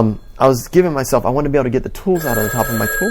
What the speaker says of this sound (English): it was like a real old-sounding phone ring like this